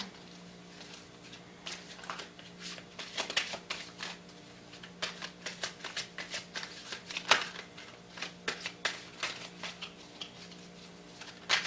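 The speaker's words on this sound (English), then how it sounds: "I'm going to just shuffle more" Crisp, papery riffles of tarot cards being shuffled in quick irregular bursts, close by, with a steady low hum underneath and no talking.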